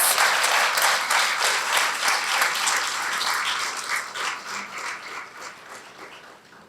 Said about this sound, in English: So they deserve a huge applause for this success.